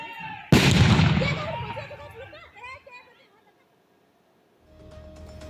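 A bomb blast during a political clash bursts out loud and sudden, then rumbles and decays over a couple of seconds into quiet, with faint background noise returning near the end.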